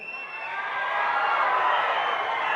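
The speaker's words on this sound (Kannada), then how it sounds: "ಈ ವಿಸಲ್ಲು ಚಪ್ಪಾಳೆ ಈ ಕೇಕೆ ಇಲ್ಲ ಅಂದರೆ ಯಾವ ಫಂಕ್ಷನ್ನೇ ಅಲ್ಲ." Large crowd at a fan event roaring steadily, a dense wash of cheering and whoops with possible whistles and clapping blended in, sustained and building slightly over the span.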